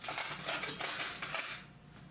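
A metal spoon scooping and dropping flourless oatmeal chocolate chip cookie dough, making a few close scraping and clinking strokes against a bowl that fade toward the end, with no talking.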